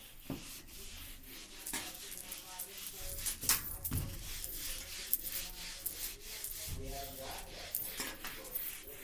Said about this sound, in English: Erase your board. Where's my eraser?